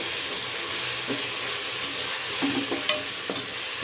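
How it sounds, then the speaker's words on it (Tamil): Spices and homemade spice powder sizzle in a hot pan for vegetable biryani with steady frying hiss, punctuated by occasional scrapes and clinks of a spoon stirring. "இப்போ இதை போட்டு நல்லா வதக்கலாம்."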